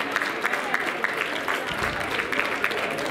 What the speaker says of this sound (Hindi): आपकी तालियां बहुत फीकी है काशीवासियों